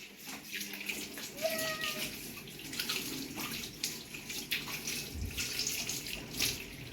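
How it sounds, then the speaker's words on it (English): Warm tap water runs steadily into a sink while a tea towel is washed under it, with splashing and sloshing as the cloth moves, and a person speaking briefly over it. "So now I'll be washing this tea towel."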